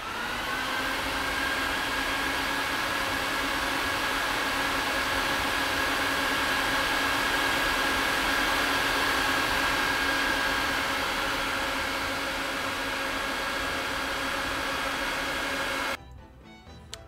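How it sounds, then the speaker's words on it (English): Carpet extraction vacuum pulling pet urine and cleaning solution out of a wool runner rug, a loud, steady high-pitched motor whine with rushing suction that holds for about sixteen seconds before cutting off abruptly. "Listen how the vacuum"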